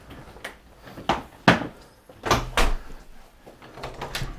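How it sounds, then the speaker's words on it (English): Doors opened indoors while walking from a house through to a garage: a series of sharp knocks, clunks and latch sounds with footsteps between them, close and moderately loud. "open the first door"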